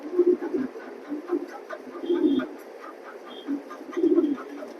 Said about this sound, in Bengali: দেখেন দেখার মতো কবুতর